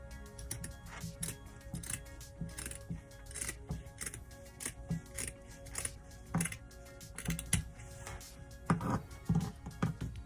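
Scissors cutting out a curved doll shirt sleeve pattern, a steady run of close, crisp snips with short gaps between them, no talk.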